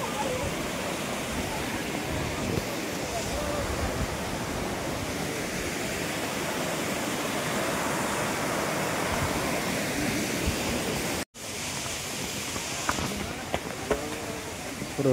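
A waterfall in hilly countryside near Panchalingeswar in Odisha gives a steady, dense rush of falling water heard fairly close, continuing almost unbroken apart from a brief cut near the end.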